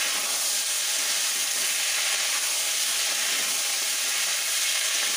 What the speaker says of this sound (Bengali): এখানে তেলে কালো জিরে দিয়েছি, আলু দিয়ে ভাজা ভাজা হচ্ছে